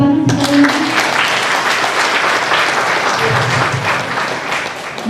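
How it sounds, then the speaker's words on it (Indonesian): An audience applauding at a TP PKK event in Depok, dense steady clapping that fills the whole stretch, loud and close, with faint voices at the start. "Tepuk tangan sekali lagi."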